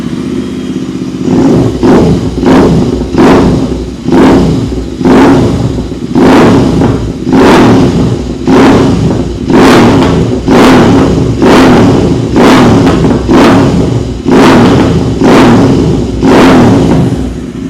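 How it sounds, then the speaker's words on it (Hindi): A Royal Enfield Interceptor 650 with a full-system exhaust is blipped over and over in short, loud bursts, about one rev per second, each snapping up and dropping back to idle. "जब हम रेस देते हैं तब साउंड कैसा आता है"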